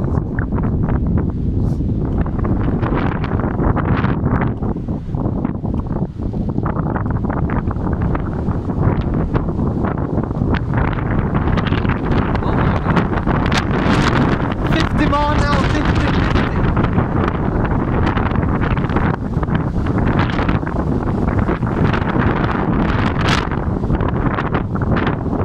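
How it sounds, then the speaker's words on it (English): Strong gusts of wind during Storm Dennis, around 50 mph, roar and buffet the microphone continuously and loudly, with a thick rumbling rush that never lets up. "Exceptionally windy. I just recorded a 50 mile an hour gust early on"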